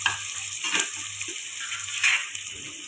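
Onions fry in oil in a pan, a close, steady sizzle with intermittent stirring scrapes and small bursts of crackling.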